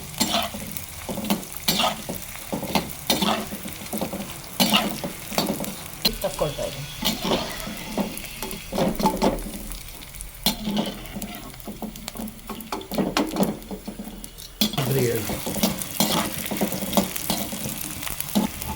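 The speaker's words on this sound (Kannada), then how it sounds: "ತುಪ್ಪ ಕಾಯ್ತಾ ಇದೆ ಈಗ ಎಣ್ಣೆ ಕಾದಿದೆ ಸ್ವಲ್ಪ ಸ್ವಲ್ಪ ಗಮ್ ಹಣ್ಣು ಹಾಕ್ಕೊಂಡು ಕರ್ಕೊಂಡು ತೆಗಿಬೇಕು" Small pieces of edible gum fry and puff in hot ghee, giving a continuous crackling sizzle broken by repeated scraping stirs, with brief voices in the background.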